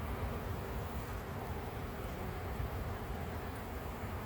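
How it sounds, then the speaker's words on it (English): Honey bees swarm around an open hive during an early spring inspection, a dense, steady buzzing drone close by, continuous and unbroken with no talk. "a lot of bees in this hive"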